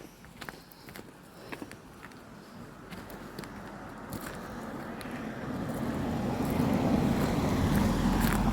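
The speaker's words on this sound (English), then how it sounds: "Let the car go past." A car approaches and passes nearby on a road by a bridge along the Dales Way walk, its rumble swelling steadily over several seconds amid wind noise and a few light scuffs.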